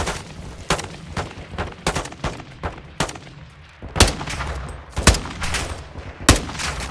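Video game gunfire from Call of Duty Modern Warfare II: steady bursts of rapid rifle shots with heavier booming reports, dense and loud over a low rumbling backdrop, with no talk.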